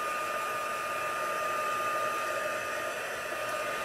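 A hair dryer runs steadily and close by, a constant whirring blow drying wet blue nail polish ink on a stamped card panel, with no talk over it.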